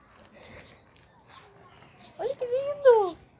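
At a zoo enclosure holding peacocks and macaws, soft chirps and twittering give way to a loud, harsh burst of rising and falling bird calls near the end, close by, with faint voices in the background.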